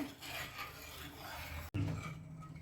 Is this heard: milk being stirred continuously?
yes